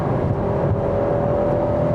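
A Ferrari 12Cilindri V12 engine runs with a steady, smooth drone and a sustained tonal whine, close and loud, holding even throughout with no voices.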